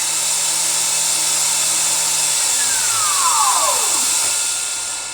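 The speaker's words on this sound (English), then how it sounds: "So if I turn on the spindle, the air should come on." A spindle runs with its air blast switched on, producing a close, constant high whine over rushing hiss, with a few tones sweeping downward near the end.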